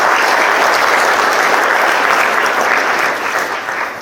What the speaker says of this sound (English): You might give a big round of applause, everybody, to our 15